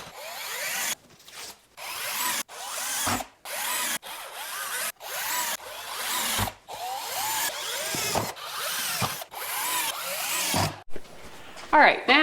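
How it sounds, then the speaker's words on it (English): A power drill drives screws into metal channels on a basement wall during renovation, running in repeated loud bursts of whirring with short pauses between them, close by. "I'm just going to screw that into these channels"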